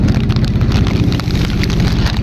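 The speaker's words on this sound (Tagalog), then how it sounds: "Ulan." Heavy rain pours down during a squid-fishing trip at sea, a dense, loud, steady wash of drops with some low rumbling beneath and no voices.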